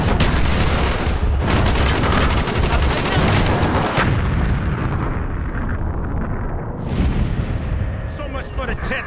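Dense gunfire and heavy artillery blasts in Call of Duty Black Ops during a 1968 South Vietnam landing-zone defense, a loud continuous barrage rumbling for seconds before thinning out, with shouted voices over it.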